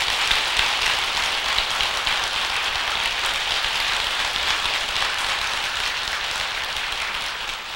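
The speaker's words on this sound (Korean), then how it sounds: "스님께 그 기쁨의 박수를 한번 보내주십시오." An audience at a Buddhist talk applauds a monk with dense, steady clapping that fills the room evenly and holds at a constant level throughout, with no voices over it.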